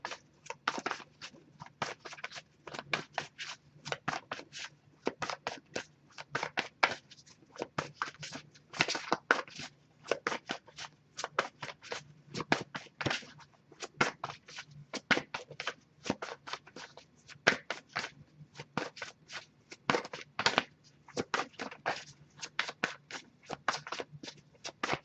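Tarot cards are shuffled by hand during a reading, giving repeated crisp riffling bursts in an irregular rhythm, close and fairly quiet, with no talking.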